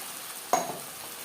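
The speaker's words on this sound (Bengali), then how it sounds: "পেঁয়াজ ভেজে নেওয়ার পর দিয়ে দেবো টমেটোর পেস্ট" Onions fry in a pan as tomato paste goes in, giving a soft steady sizzle with one brief clink and a hiss as the paste hits the oil.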